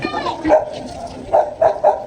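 A dog at Keat Farm in Kampong Chhnang, at the foot of a mountain range, gives four short barks, one early and then three in quick succession, fairly close.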